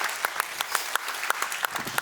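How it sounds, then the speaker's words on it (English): An audience claps to welcome a speaker onto a stage, a light, even patter of individual hand claps at a steady rhythm, moderately close and without cheering. "Let's give Ken a round of applause to welcome him to the stage."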